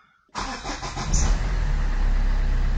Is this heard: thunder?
no